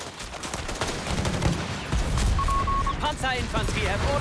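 Machine gun fire in the WWII strategy game Company of Heroes 3, dense rattling bursts and booms of battle running throughout, with voiced unit chatter cutting in near the end.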